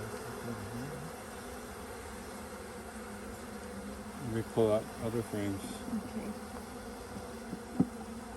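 Dense, steady buzzing of many honey bees around hive frames fills the scene, with a person talking briefly over the hum and a few soft knocks.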